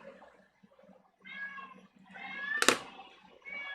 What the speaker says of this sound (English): the cat is once again interrupting